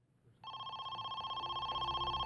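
A telephone rings with a steady electronic trill that starts abruptly and holds continuously, fairly faint, with no talk over it.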